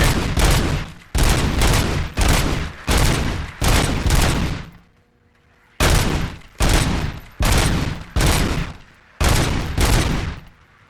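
Rapid automatic gunfire from a player firing nonstop with unlimited ammo in the shooter game Robocop: Rogue City, coming in loud dense bursts of a second or so separated by short pauses, with no voices.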